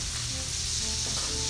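Sausage fries in a pan for shrimp and grits, giving a loud, steady, close sizzle with no talking.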